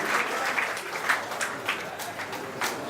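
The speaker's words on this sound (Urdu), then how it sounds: "فرحان اعظمی صاحب تشریف لا چکے ہیں، زوردار تالیوں سے استقبال کریں۔" A seated audience at a public gathering and poetry evening in Byculla gives a round of applause to welcome arriving guests. The clapping is dense, steady and moderately loud for about three seconds, with no talking over it.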